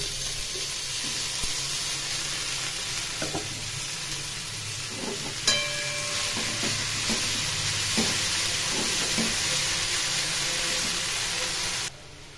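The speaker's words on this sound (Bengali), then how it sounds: "এখন খুব ভালো করে নেড়ে নেড়ে এই লাল শাক ভেজে নিতে হবে" Red amaranth leaves and eggplant stir-fry in a pan with a loud continuous sizzle, broken by scraping stirs and clinks of the utensil, until the sound drops away abruptly at the end.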